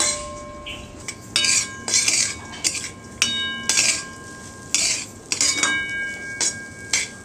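Raisins and nuts, with walnuts, being sautéed in a pan for sweet ragi modak filling, heard as repeated metallic clinks and scrapes of a spoon against the pan, irregular and close, with quiet gaps between strikes.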